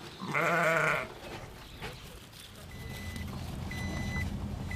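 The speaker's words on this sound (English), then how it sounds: "there are sheep resting in the shade and grazing on the grass among the panels" A sheep grazing among solar panels on a solar farm gives one loud, close bleat, followed by a low outdoor hum and faint distant beeping.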